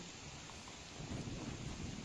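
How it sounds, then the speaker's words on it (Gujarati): Steady heavy rainfall in rural Dwarka district, Gujarat, with a low rumbling undertone, a continuous wash of sound with no voices. "ગ્રામ્ય વિસ્તારોમાં વરસાદ વરસી રહ્યો છે"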